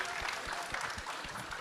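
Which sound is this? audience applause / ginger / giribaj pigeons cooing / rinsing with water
audience applause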